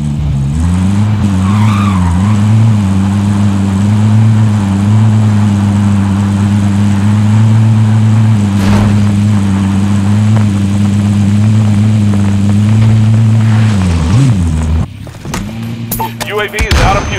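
Vehicle engine in Call of Duty Warzone Pacific drones loudly and steadily for about fifteen seconds, its pitch dipping and rising with the gears and throttle near the start and end, before cutting to brief clattering noises.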